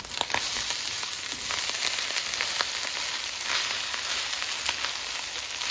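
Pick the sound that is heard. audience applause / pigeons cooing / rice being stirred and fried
rice being stirred and fried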